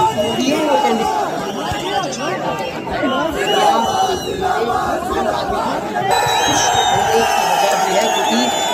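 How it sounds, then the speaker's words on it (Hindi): A large, dense crowd at an Aam Aadmi Party candidate's election campaign rally for the Doda assembly seat in Jammu and Kashmir, with loud, continuous chatter, shouts and cries throughout. "ये जो भीड़ आपको दिखाई दे रही है, ये डोडा संजय सिंह को मानने के लिए पहुंचे थ"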